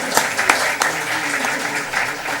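Audience clapping rises in a lecture hall, with a few sharper individual claps standing out from a steady, moderately loud patter.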